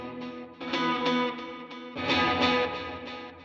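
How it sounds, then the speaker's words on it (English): An electric guitar is struck twice through HX Stomp parallel reverb and delay running in stereo, each hit blooming into a lush, echoing wash that swells and trails off. "So here I'm going to hit the guitar, and then you'll hear the effects come in"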